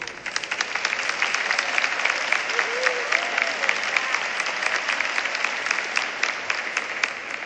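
A congregation claps steadily and fairly loudly throughout at an episcopal ordination, a dense sustained round of applause with faint voices underneath.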